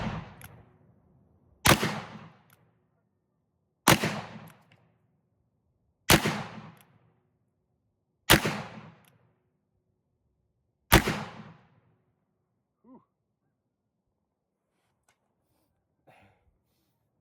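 A New Model Army black-powder revolver fires six evenly spaced loud, sharp shots outdoors, each about two seconds apart with a short decaying echo, followed by near silence and faint handling sounds.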